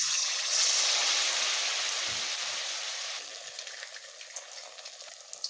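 Arum leaves coated in rice-flour batter frying in hot oil, a loud steady hiss that gradually softens into lighter crackling and popping, with no talk over it.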